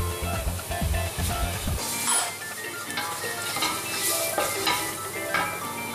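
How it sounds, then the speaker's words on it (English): Garlic sautéing in oil in a pan, a loud close sizzle with clattering stirring scrapes early on, then continuous hissing and crackling without speech. "just enough to saute our garlic, and then we'll put the garlic in"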